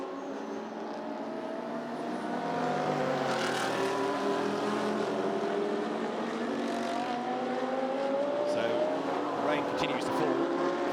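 Race cars sweeping downhill into a corner during the Sepang 12 Hours endurance race in Malaysia, several engines droning and shifting pitch together as they pass, loud and steady under a commentator's voice.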